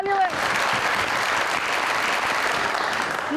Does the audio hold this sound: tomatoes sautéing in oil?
no